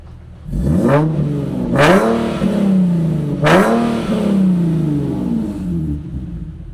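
BMW M3 engine through a monotube exhaust line with the original catalytic converter, revved hard three times from idle, each blip rising sharply then settling back, loud and close, with no voices.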